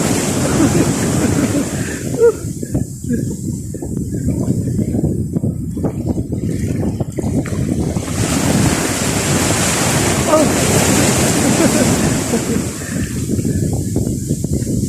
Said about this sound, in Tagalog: Oh, alon.